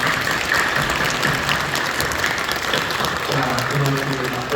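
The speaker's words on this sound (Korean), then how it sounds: "뜨겁게 박수해 주시기 바랍니다" A church congregation applauds warmly in encouragement of its young people, a steady wash of many hands clapping, with a voice speaking over it in the closing seconds.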